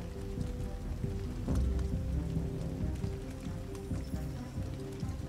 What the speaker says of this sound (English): Just standing in the heavy rain.